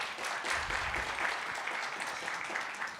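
An audience at a travel technology event applauds a panelist, with a faint, distant wash of steady clapping from many people that continues evenly without any talk.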